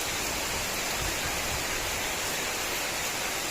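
Heavy monsoon rain pours down near a school, a dense, steady hiss that stays loud and unbroken throughout with no voices.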